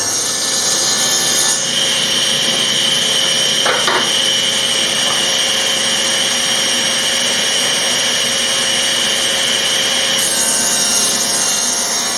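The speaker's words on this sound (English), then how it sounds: "Now I still have to cut the width of these wood panels to size." A saw cuts plywood panels to width in a steady, continuous loud whine and rasp, with a brief change in tone partway through and no talking.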